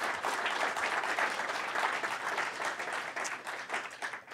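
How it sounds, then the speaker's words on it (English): Applause for the judges at a talk on counterfeit Magic card detection: a crowd claps steadily and fairly loudly throughout, with no voice over it. "So if I get a round of applause for these folks right here."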